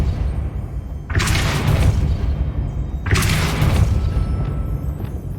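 Two heavy Depulso spell impacts land in Hogwarts Legacy, each a loud booming blast with a crackling burst that decays over about a second, spaced two seconds apart over a low rumble.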